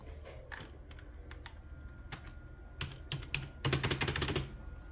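Keys clatter on a computer keyboard being tested on an old Windows 2000 machine, scattered single taps giving way to a fast, louder burst of typing near the end, close and without talk.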